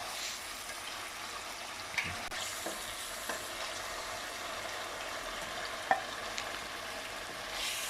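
Chicken frying in a pan for tandoori masala, a soft steady sizzle with occasional stirring clinks and scrapes, no talking.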